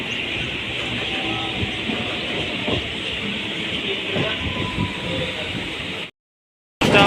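A train pulling into Borabanda station rumbles and hisses at a steady, loud level, with occasional clicks and squeals before cutting to silence near the end.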